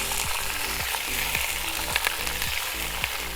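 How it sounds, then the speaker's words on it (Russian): Pork brisket frying in a kazan, a steady close sizzle with a faint rhythmic stirring or scraping every half second or so, with no talking. "до золотистой корочки обжариваем ее со всех сторон"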